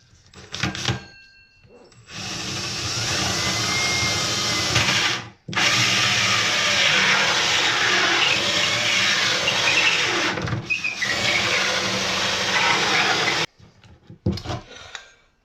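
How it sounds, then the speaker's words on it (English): A loud power drill whirs steadily in long bursts, stopping briefly between runs, with the grinding of a bit boring holes into wood up close. "I'm actually going to be using my bigger drill for this"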